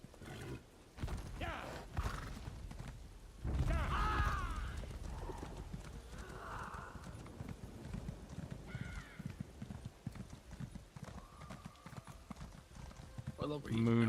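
A horse gallops in the online role-playing game ESO, steady rhythmic hoofbeats running through the clip with a whinny, while a person talks over it.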